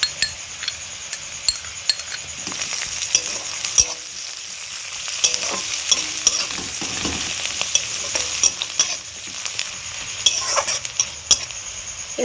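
Onion frying in a pan as chopped ginger, garlic and green chilli go in, a steady sizzle with spoon scrapes and light clinks against the pan, close and without talk.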